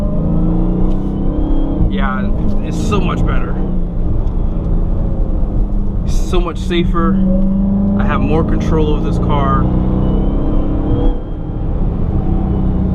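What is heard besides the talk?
Dodge Charger Hellcat Widebody engine while driving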